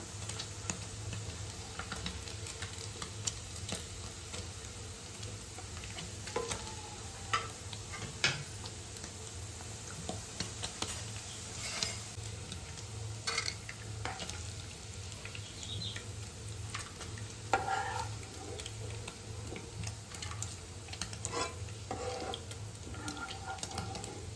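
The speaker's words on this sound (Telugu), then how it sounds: "పన్నీరు దోరగా వేయించుకోవాలి." Paneer cubes frying in oil in a pan, a faint continuous crackling sizzle with scattered small pops and ticks over a low steady hum, no talking.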